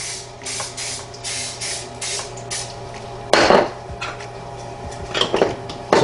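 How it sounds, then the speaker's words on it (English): Cooking spray hisses into a doughnut pan in a few quick bursts, with light metallic clinks of the pan between sprays, close and fairly loud. "So I've got things sprayed with some cooking spray in there good."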